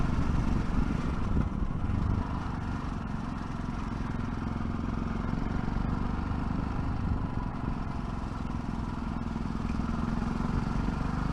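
Yamaha 660 Ténéré motorcycle engine steadily pulling up through the revs, a continuous close, even drone with some mechanical clatter and no talk over it.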